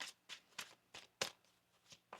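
A deck of tarot cards is shuffled by hand in a quiet room, making a series of short, crisp riffling bursts at an uneven rhythm, close and fairly soft.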